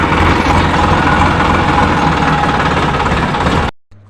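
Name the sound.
tractor engine running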